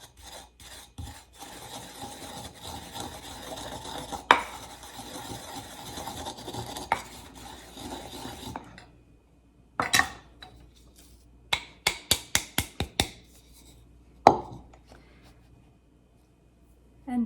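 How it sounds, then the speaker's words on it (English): Homemade Cajun seasoning with coarse oregano being ground, a steady scraping and rasping that runs for several seconds, then a pause followed by a quick series of sharp hard knocks and taps. "I think I'm going to grind it a little more because some of that oregano is still pretty coarse"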